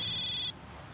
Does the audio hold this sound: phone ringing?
yes